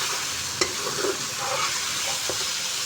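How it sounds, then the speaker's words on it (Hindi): Chicken, onion and tomato frying in a pan for an aloo chicken shorba, with a steady close sizzle, occasional stirring scrapes and a couple of sharp clinks against the pan. "हमारा जो चिकन है, प्याज टमाटर सारा अच्छे तरीके से फ्राई हो रहा है"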